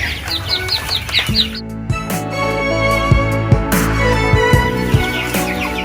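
Baby ducklings in a box peep in rapid high chirps, close and lively, mixed with a low, steady hum.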